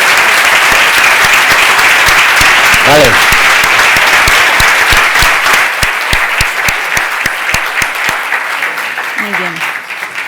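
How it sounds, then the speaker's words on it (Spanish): An audience at a tech event gives a strong, dense round of applause that carries on loudly and then thins toward the end, with a brief spoken word and a voice heard over the clapping. "Un fuerte aplauso y muchísimas gracias."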